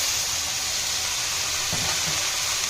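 Leaves tossed into hot oil in a pan for a Bengali vegetable dish give a steady, fairly loud broadband sizzle that holds unchanged for a few seconds, with no voices.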